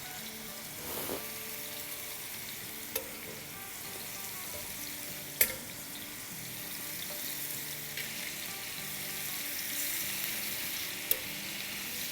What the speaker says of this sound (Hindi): अब चिकन के पीसेस डाल देंगे